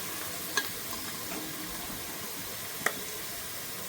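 Food fries in a pan with a steady, moderate sizzle up close, punctuated by two sharp utensil clicks against the pan.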